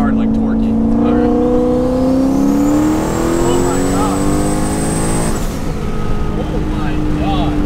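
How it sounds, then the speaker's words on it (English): A turbocharged Mustang accelerating with a steadily rising engine note and a high turbo whine climbing as it spools into boost, heard loud from inside the car, with speech over it. "you'll hit it and you'll hear the turbo start. Then you'll hear it actually get into boost."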